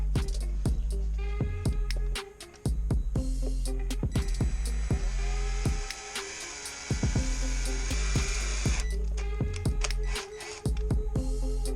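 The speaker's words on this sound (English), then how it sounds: "I just got a drill bit just big enough to, just bigger than the actual connector there, and we're gonna drill this out" A power drill bores out a connector with a bit sized just larger than it, giving a close, loud whine that surges into a sustained high-pitched grind for several seconds amid clicks and handling knocks.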